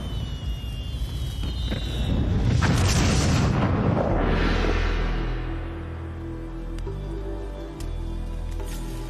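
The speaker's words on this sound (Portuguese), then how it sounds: "Explosões" Deep explosion booms with rumbling low-end blasts and a broad burst of noise, loud and sustained for several seconds before settling into a lower rumble.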